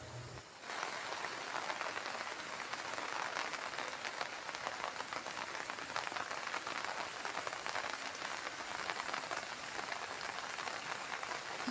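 Rain falls steadily in a rural area near paddy fields, a dense, even patter that starts abruptly and holds constant, with no talking.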